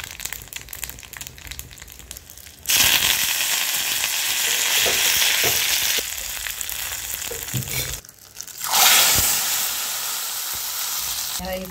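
Mustard seeds sizzle and spit in hot oil for a tadka on a Marathi black chickpea curry, loud, steady frying that jumps in at once and surges again after a brief lull, with small pops scattered throughout.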